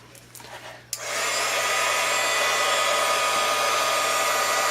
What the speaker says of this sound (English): Surefonder Pro Heater heat tool